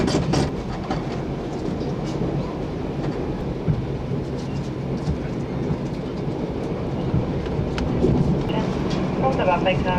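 Passenger train in Australia rolling along the rails, a steady broadband rumble with rhythmic clickety-clack and occasional clanks, heard from on board throughout; faint voices mix in now and then.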